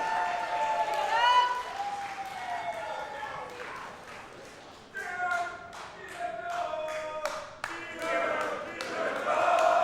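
Crowd at a professional wrestling heavyweight championship match applauding and cheering, a steady roar with swells that runs beneath a commentator's voice throughout.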